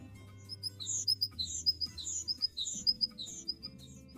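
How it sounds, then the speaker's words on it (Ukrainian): A great tit calls in clear, repeated two-note phrases, sharp and rhythmic, ringing out over faint low background noise. "А тепер послухаймо, як тенькає синичка."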